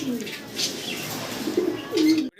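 A pair of Lakha pigeons coo softly in low, rolling phrases, close by, with faint background noise and a brief higher chirp.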